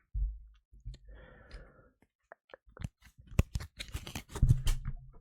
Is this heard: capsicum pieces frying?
no